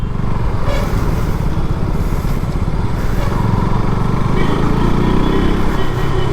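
A motorcycle is ridden along a road with a loud, steady engine drone and rushing wind close to the mic, while someone talks over it.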